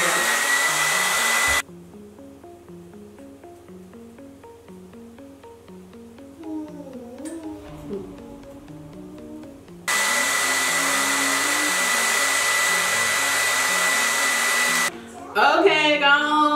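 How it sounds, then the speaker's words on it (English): A hair dryer blow-dries a synthetic purple braided wig, roaring loud and close in two long stretches separated by a quieter pause with faint background music. "I'm going to blow dry it again"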